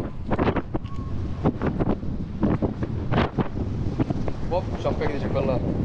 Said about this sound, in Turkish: Güzel esiyor ya.